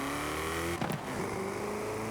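MG XPower SVR with a Ford-derived V8, driven in the racing game Forza Horizon 5, holds a loud, steady engine drone that dips briefly in the middle before settling back into a continuous close-up hum.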